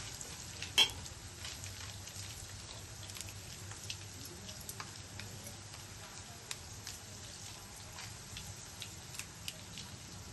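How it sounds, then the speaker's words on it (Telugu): Urad dal, chana dal, mustard seeds and cumin frying in oil as a tempering for gongura pachadi, a faint continuous sizzle with light crackles and pops and one sharper clink near the start. "తాలింపులు మినపప్పు, శనగపప్పు, ఆవాలు, జీలకర్ర కొంచెం ఎక్కువగానే వేసుకున్నాను."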